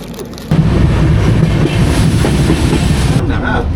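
Sairang Express passenger train running on rails, a loud steady low rumble with rattling wheel noise starting abruptly and continuing close by, no voices over it.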